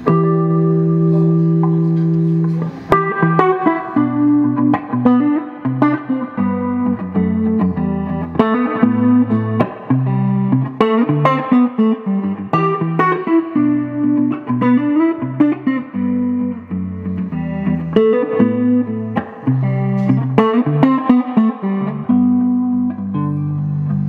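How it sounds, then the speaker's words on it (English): Fender Telecaster with a 1952 body and 1956 neck, played through a 1966 Fender Pro Reverb with a Pettyjohn Gold Mark II, looper and light reverb: layered looped chords and melodic lines, loud and continuous, no talking. "We're going through a 1966 Fender Pro Reverb, all EQs at noon, a little bit of reverb."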